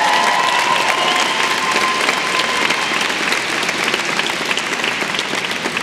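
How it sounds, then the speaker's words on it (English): A large commencement crowd at the University of Arizona's Eller undergraduate ceremony gives a loud, continuous round of applause, a thick roar of clapping that stays strong throughout and thins a little toward the end. "will you give them a round of applause for me?"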